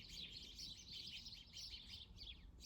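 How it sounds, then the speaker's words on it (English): Many small birds chirp and tweet from a bush close by, a steady overlapping chatter of high calls over low outdoor rumble, with no talking. "I hope you guys are enjoying the bird sounds. There's a bush right here with, like, a lot of birds in it."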